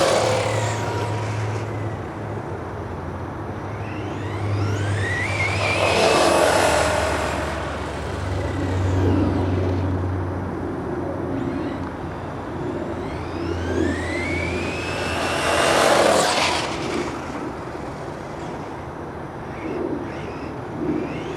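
A brushless Traxxas Slash Baja Bug RC car on LiPo power whines past in two rising and falling high-pitched passes, approaching and receding, with steady motor drone and outdoor background noise between them.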